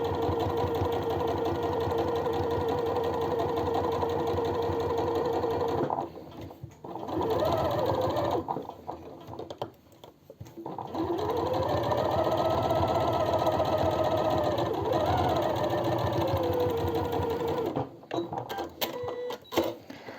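Sewing machine running a stabilizing stitch along a fabric edge, steady fast mechanical whirring in long bursts with brief pauses, close and clear.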